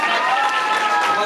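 Wedding guests applauding the newlyweds, a brief, loud and dense wash of clapping and crowd noise with voices mixed in.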